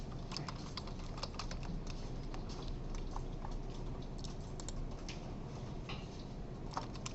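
Typing on a computer keyboard: a steady, rapid patter of key presses continues for several seconds, close and moderately quiet, with no speech.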